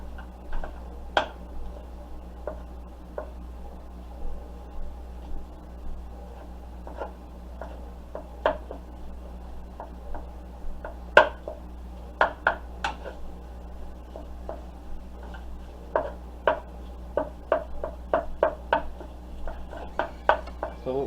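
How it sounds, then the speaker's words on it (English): A utensil breaks apart ground meat in a pan on the stove for Cajun dirty rice, giving irregular sharp taps and scrapes against the pan over a low steady hum, close and moderately loud, with no one talking. "we're going to break apart our meat."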